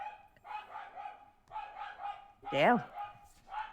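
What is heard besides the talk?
neighbours' dogs barking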